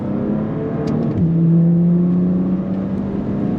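A 2022 Bentley Continental Speed accelerates hard on a race track, a loud sustained engine drone heard from inside that climbs in pitch, drops briefly at a shift, and holds steady with no talking.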